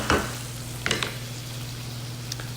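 Minced Canadian garlic cooks in a pan, a low steady sizzle broken by a couple of sharp clinks from stirring, close by with no voices.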